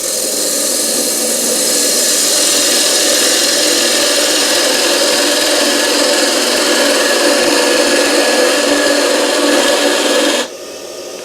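A wood lathe turns a spigot on a workpiece: a steady, loud, broadband whirring rush holds for about ten seconds, then cuts off as the machine stops.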